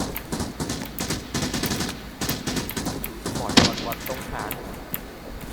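Gunfire rattles in Arena Breakout: Infinite as rapid bursts and repeated shots stutter across the whole stretch, fairly close and loud, with voices talking underneath.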